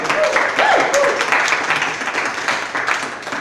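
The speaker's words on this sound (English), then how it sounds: "Let's clap again for her." A room full of people claps together, a steady wash of applause with some voices mixed in, fading slightly toward the end.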